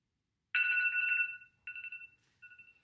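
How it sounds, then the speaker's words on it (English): A smartphone reminder alarm plays a bright electronic ringtone in short tonal bursts, clear and close in an otherwise quiet room, with no talk. "We also have placed a reminder on Joy's phone to cue her to begin making these sandwiches"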